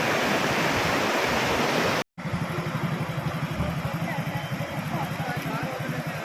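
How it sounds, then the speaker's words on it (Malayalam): A flooded river in Kerala surges over a submerged bridge with a strong current, giving a loud, continuous broadband roar of rushing water, briefly cut off once, with a low rumble underneath. "നല്ല ഒഴുക്കുണ്ട്"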